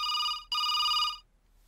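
Telephone ringing: an electronic ring in two quick bursts with a brief gap, bright and clear, then fading to quiet.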